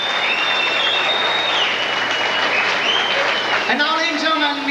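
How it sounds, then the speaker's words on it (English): Audience applause at a 1987 sesquicentennial celebration in Highland, Illinois, for a musician named Seth: dense, steady clapping from a large crowd, near and sustained, with a voice rising over it at the very end. "a nice round of applause for Seth"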